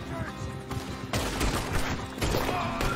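Gunfire in Red Dead Redemption 2 crackles through a busy in-game firefight, with broadband bursts and sharp transients over dense game noise, near and loud, while voices speak underneath.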